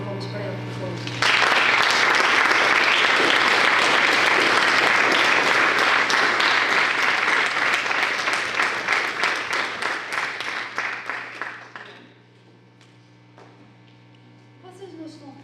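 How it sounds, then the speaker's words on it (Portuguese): An audience at an inspirational event bursts into applause honoring a girl's words, loud dense clapping starting suddenly, holding strong, then thinning into scattered claps and fading out, with a steady electrical hum underneath throughout. "Gostava de pedir uma salva de palmas para ela, por favor."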